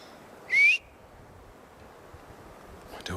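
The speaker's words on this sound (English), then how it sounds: "But I've also been whistling the whole time." A single short rising whistle from a person's mouth, clear and close, lasting under half a second against a quiet background, with a faint rustle at the end.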